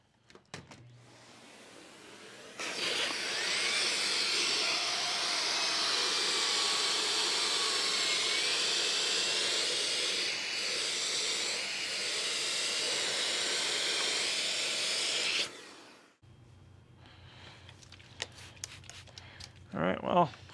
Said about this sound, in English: fire this up with the central vacuum and see how this spins